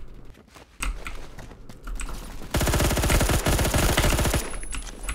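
Colt SMG 633 submachine gun firing in a video game, with a scattered volley of shots that gives way to a loud, dense sustained burst of rapid automatic fire lasting about two seconds before easing off.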